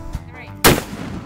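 Accuracy International AX-50 sniper rifle firing a single .50 caliber shot outdoors at a range, one loud sharp blast with a rumbling tail, preceded by faint background noise.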